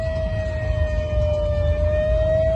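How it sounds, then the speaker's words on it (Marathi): A lifeguard warning siren at Baga Beach in Goa, sounding for rising waves, holds a steady continuous tone over loud low surf and wind rumble throughout. "लाटा वाढत आहेत म्हणून सायरन चालू आहे कंटिन्यू."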